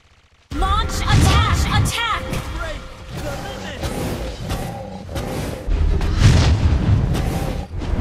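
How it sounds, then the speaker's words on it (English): A turret blows up in an online multiplayer battle arena match, heavy booming bursts and crashing impacts layered over continuous game effects and voices throughout. "Our turret has been destroyed."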